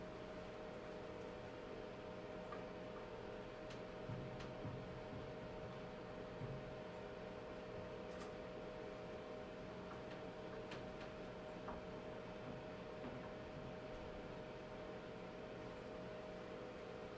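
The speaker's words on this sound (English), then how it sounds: "That noise is my heater." A room heater runs indoors as a steady, low, faint hum and hiss, with a few soft ticks scattered through the constant drone and no voices.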